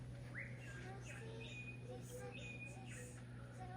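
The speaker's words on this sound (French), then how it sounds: "Ah, c'est un perroquet." A parrot gives several faint, scattered squawks and whistles at a distance over a steady low hum, with quiet talk nearby.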